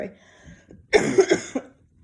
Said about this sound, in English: One being this cough, and the cough being so harsh.